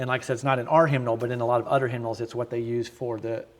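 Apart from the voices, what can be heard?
No everyday noise stands out behind the speech.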